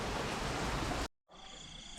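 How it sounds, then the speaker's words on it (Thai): Rain pouring down over rice paddies in rural Thailand on a dark day, a dense steady hiss that cuts out abruptly, followed by a quieter, thinner rain texture. "ฝนตกครับนี่ดูมืดมาก่น"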